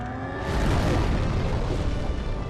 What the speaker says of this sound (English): I'm surprised his explosion does less than his claw attack.